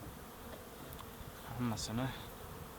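Honeybees drone in a continuous low buzz around a hive being opened with a knife to scrape away propolis, with a couple of louder passes close by and someone speaking briefly.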